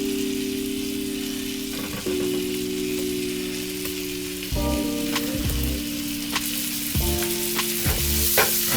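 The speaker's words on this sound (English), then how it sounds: "And all I'm going to do is just going to saute my shrimp real good." Peeled, dried shrimp sauté in a hot pan with a loud continuous sizzle and frying crackle, close up, with a low steady tone running underneath.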